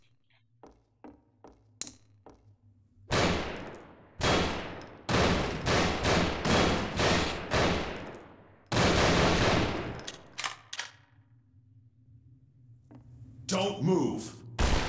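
Bursts of enemy gunfire in the Hellsound Dreams horror mod, with rapid automatic volleys from about 3 to 10 seconds and another short burst at the end, loud and close, after sparse footsteps and a brief spoken line.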